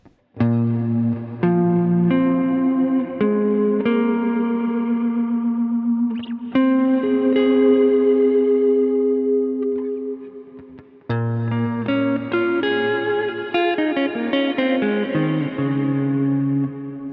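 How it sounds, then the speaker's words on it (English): Guitar played through a Strymon Cloudburst ambient reverb pedal with pre-delay, sustained chords and notes swelling into a washy, lingering reverb tail, loud and alone with a short gap before the final phrase. "adding some pre-delay to there can give you an almost reverse reverb kind of feel to it"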